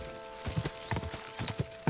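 Horse hooves clip-clop in a steady trotting rhythm in Kingdom Come Deliverance 2, fairly quiet, with a few strong footfalls and no talking.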